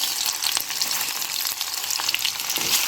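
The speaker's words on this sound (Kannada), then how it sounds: "ಒಗ್ಗರಣೆ ಹಾಕ್ತಾ ಇದೆ ಇವಾಗ ಸಣ್ಣದಾಗಿ ಹೆಚ್ಚಿಟ್ಟುಕೊಂಡಿರೋ ಒಂದು ಮೀಡಿಯಂ ಸೈಜ್ ಟೊಮೊಟೊ ಹಾಕ್ತಾ ಇದ್ದೀನಿ" Chopped tomato fries in hot tempering oil with a loud, steady sizzle and crackle, occasional stirring scrapes, and no talking.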